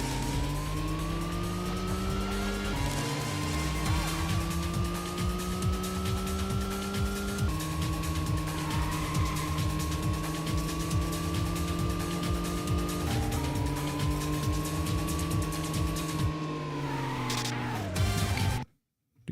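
Car engine in Racing Lagoon on PS1, revving steadily through repeated gear changes with sustained tire squeal as it oversteers and skids through corners, loud and close throughout, ending with an abrupt cutoff.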